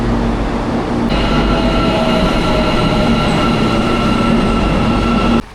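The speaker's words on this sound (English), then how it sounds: "We're going to have a go at the Almaty metro system." Almaty metro subway train running steadily with a loud continuous rumble and whine of wheels on rail, close and sustained throughout, cutting off abruptly at the end.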